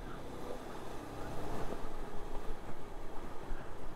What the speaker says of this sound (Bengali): প্রচুর হাওয়ার জোর।